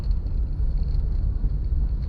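A 1964 Chevy II idles in gear with a steady low engine rumble, loud and close, holding an even drone with no voices.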